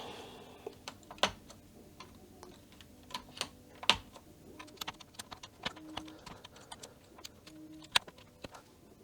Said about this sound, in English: It's so satisfying to place all the keycaps back to the keyboard.